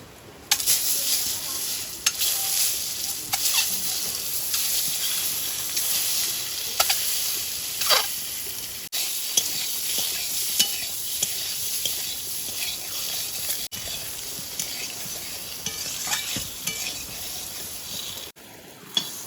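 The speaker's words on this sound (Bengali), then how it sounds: "তেলে 1 চিমটি হলুদ দিয়ে ডিমগুলো ভেজে নেব।" Eggs fry in hot oil with a pinch of turmeric and salt, a constant loud sizzle with occasional stirring scrapes throughout.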